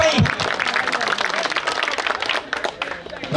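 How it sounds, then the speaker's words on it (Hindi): Audience clapping for batsman Rinku at a post-match cricket presentation ceremony, a short burst of applause under someone talking over it. "ताली लगवा यार रिंकू को भाई"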